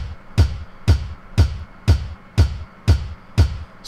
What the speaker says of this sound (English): So now we have that real punchy four on the floor.